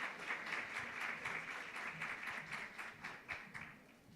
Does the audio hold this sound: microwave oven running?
no